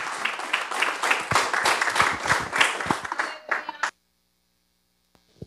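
Church congregation clapping in praise during a service, an uneven burst of hand claps with voices mixed in, ending abruptly and followed by near silence.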